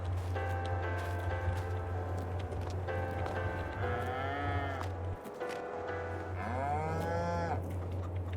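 Several cows on a Polish farm moo repeatedly in long, drawn-out, whiny calls over a steady low mechanical hum, with some calls overlapping.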